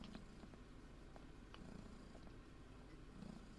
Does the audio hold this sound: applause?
no